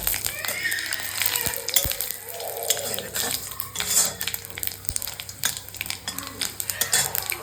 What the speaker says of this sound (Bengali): আর দিয়ে দেব তিনটে গোটা শুকনো লঙ্কা